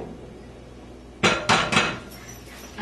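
Eggs cracked against a pan for an omelette, with melted butter, potato and onion already in: three sharp, close knocks in quick succession, followed by fainter clicks.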